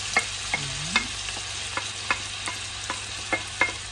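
Marinated ground beef for bulgogi stirred in hot oil in a pan: a steady, faint sizzle runs throughout, broken by repeated sharp clicks and scrapes of a spatula against the pan, with no talking.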